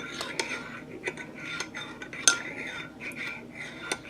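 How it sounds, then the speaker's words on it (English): A spoon stirring maple syrup into a homemade coffee-house drink, with light, close clinks of metal against a cup repeating irregularly and one brighter ring, all fairly quiet. "I'm going to mix my maple syrup in"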